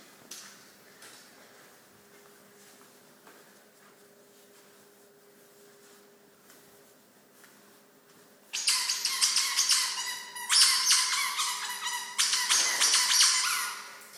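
A dog's squeaky toy ball squeaks loudly and repeatedly in rapid bursts, close by, with short pauses between bursts after a quieter stretch of room noise.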